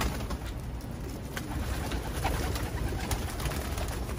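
A zebra dove in a loft of racing birds coos softly amid a constant hiss of background noise.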